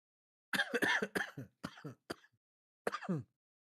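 A run of dry coughs, several in quick succession, then a short pause and one or two more, close and fairly quiet.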